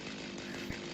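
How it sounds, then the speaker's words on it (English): A chainsaw from the video game Satisfactory drones steadily and loudly for about a second, a dense buzzing motor tone with no speech over it. "And ta-da, it's a chainsaw."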